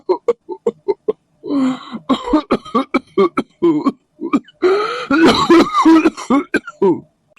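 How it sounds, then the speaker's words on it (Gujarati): Repeated coughing fits, loud and close, with short harsh bursts and some throat clearing mixed with vocal sounds. "બહુ ઉધરસ આવવા મળી"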